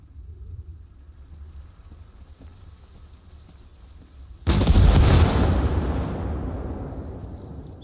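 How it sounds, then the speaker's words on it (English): In the military shooter game Arma Reforger, a rocket strike hits with one sudden loud blast partway through. A heavy rumble follows and fades slowly, after a quieter stretch of low battlefield noise. "Yeah, there's some rockets going on right now."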